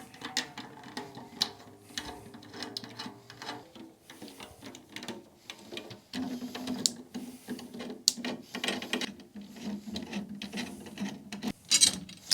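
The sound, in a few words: loosening snare drum head tension rods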